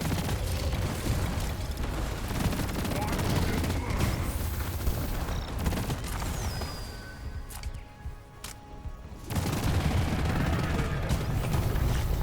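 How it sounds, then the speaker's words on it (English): Stubby Voltaic SMG fitted with the EM Refire Booster firing rapidly in Deep Rock Galactic, a dense, continuous stream of crackling electric shots that drops off briefly before resuming at full intensity. "It feels pretty wicked to put an immense amount of bullets out of a gun in such a short amount of time."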